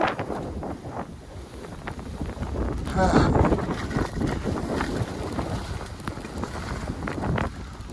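Wind buffets the microphone in low rumbling gusts throughout on a cold snowy ski slope, with a stronger blast midway, and a voice speaking faintly underneath.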